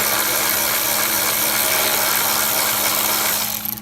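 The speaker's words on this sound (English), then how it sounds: "You want to unscrew this screw right here. It's a T30." Power driver unscrewing a T30 Torx screw from the valve cover plate near the high pressure fuel pump mount on a 2011-2016 Ford F-150 3.5L EcoBoost, a steady loud buzzing whir held close, stopping at the end, with no talk.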